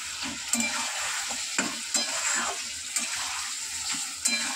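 Ginger and green chili paste sautés in a pan, a close, bright sizzle broken by repeated scraping stirs of a spatula at a loose, irregular rhythm, with no speech.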